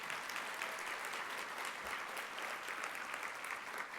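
Conference audience applauding speakers at a plenary session, a dense, even wash of many hands clapping continuously, moderately distant and steady throughout.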